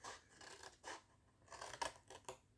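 Scissors snip through paper while a gift box for an Advent calendar is cut out, several quiet crisp cuts and rasping slides in an irregular rhythm, close up.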